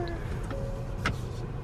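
A brand-new car backs up in reverse toward a pit lane, its engine a low, faint hum for a moment with a brief whir in the middle.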